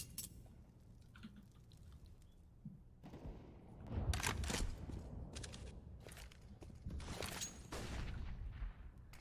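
Sharp AWP sniper rifle shots and scattered gunfire in a competitive Counter-Strike: Global Offensive match, several loud cracks between about four and nine seconds over a low game-sound bed, with no talk.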